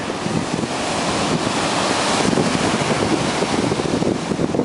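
Steady roar of Atlantic surf at the beach in Ocean City, Maryland, with waves washing in continuously, loud and close, mixed with gusty wind buffeting the microphone.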